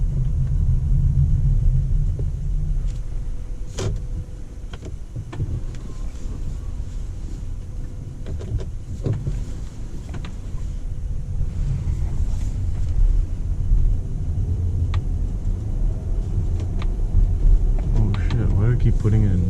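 Tesla Model X launching hard from 0 to 100 on an empty road, a steady low rumble of road and wind noise swelling through the run, with voices talking over it inside the cabin.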